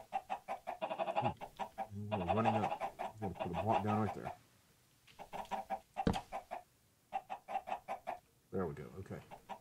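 Chickens clucking in Minecraft Sky Factory 3, including modded redstone and iron chickens, a quiet run of rhythmic clucks and squawks that keeps returning while someone talks over part of it.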